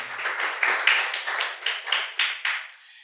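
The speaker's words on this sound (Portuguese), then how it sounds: "Você pode aplaudir a Jesus nessa noite?" Church congregation clapping during a sermon, a handful of distinct rhythmic claps in quick succession, sharp and fairly close, tapering off after about three seconds.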